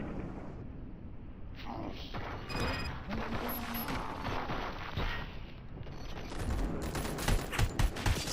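Heavy gunfire in Robocop: Rogue City, a dense, loud fusillade of rapid shots and bursts with clanking mechanical impacts running throughout, growing busier toward the end, with voices faintly mixed in.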